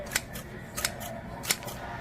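Scissors used as a school supply, snipping in three separate crisp, short cuts spaced across a couple of seconds, fairly close, with a low steady hum of room noise beneath and no talking.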